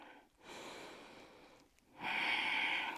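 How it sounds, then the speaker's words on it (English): Slow, deep breaths during seated chair yoga: two long airy exhales close to the microphone, the second stronger, separated by brief quiet inhales. "Let's see if we can do 3 long breaths."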